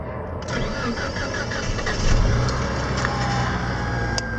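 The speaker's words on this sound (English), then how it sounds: "Let's see if the car turns on." A Mitsubishi Galant VR4 turbo engine cranks with rapid rhythmic turning, then catches and settles into a steady running rumble close by.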